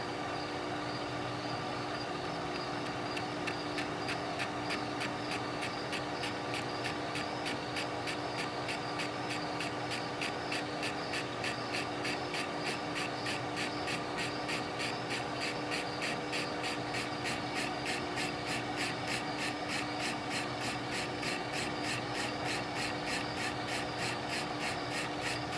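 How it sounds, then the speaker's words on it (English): A lathe takes a light facing cut on a nut, giving a steady, even machining hum with a faint rhythmic ticking that holds throughout at low level, with no talking. "It's just a similar light facing cut with a foot on the brake."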